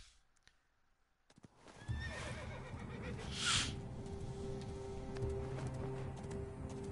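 A horse whinnies over a rumbling bed of hoofbeats and background noise from the video game Assassin's Creed, the neigh rising briefly in the middle, fairly faint overall.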